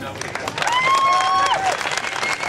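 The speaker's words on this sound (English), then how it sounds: "That's going to give you a big shout, round of applause." A marathon crowd breaks into a round of applause and cheering, with clapping and raised voices blending together and a whistle cutting through the middle, steady and fairly loud throughout.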